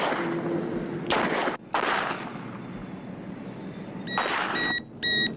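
Gunshots at a shooting range: a few sharp, irregular bursts separated by quieter gaps, with short electronic beeps near the end, all at moderate loudness.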